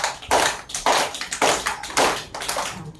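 Children at an anganwadi clap their hands in turn, a steady run of about eight sharp, close claps roughly half a second apart, with no talking over them.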